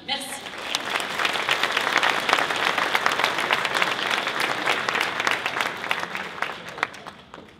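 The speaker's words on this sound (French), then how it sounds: "On peut l'applaudir." Sustained, dense applause from a crowd at a medal ceremony honoring volunteers, loud and steady throughout with no gaps, tapering slightly at the very end.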